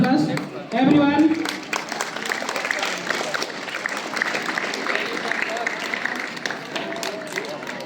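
Crowd claps at the formal opening of a school sports meet, a voice over the loudspeaker at first, then steady dense applause with scattered voices running underneath.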